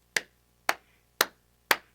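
Children at a library storytime clap together four times in an even, steady rhythm, each crisp, close clap separated by about half a second of near silence.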